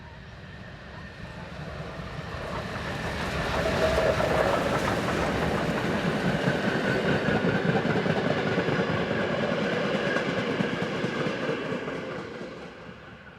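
German class 01 Pacific steam locomotive number 202 heads a train toward the camera, its rumble and rolling wheel clatter swelling from a distance to a loud, sustained pass before easing off slightly.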